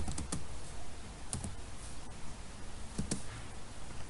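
Keys clicking on a computer keyboard in short clustered bursts of a few strokes each, separated by pauses, close and fairly quiet, with no voices.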